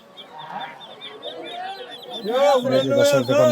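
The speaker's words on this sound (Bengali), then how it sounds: "বড় বড় হাঁস" Ducks quacking and honking loudly at close range at a crowded duck market, growing busier toward the end, with voices talking in the background.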